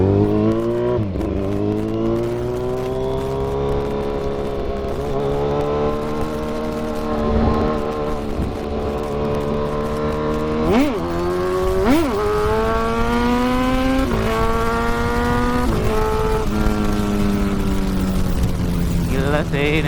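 A Kawasaki Z1000 Sugomi naked motorcycle revs hard at full throttle, its engine note climbing repeatedly through the gears with sharp shifts between pulls, loud and close throughout a long continuous run.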